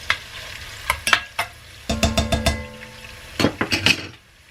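Bacon frying in a pan, a soft steady sizzle broken by clinks and scrapes of a utensil stirring against the pan, close and moderately quiet.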